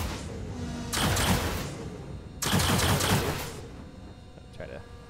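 Remote turrets on a 600i ship in Star Citizen fire two sharp bursts of rapid shots, each about a second long, separated by a short pause, with quieter background sound and some low talk between them.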